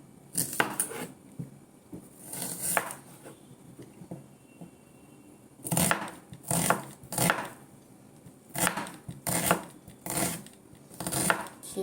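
A knife chops an onion on a cutting board in quick bursts of crisp, close thuds, separated by short pauses, with no talking.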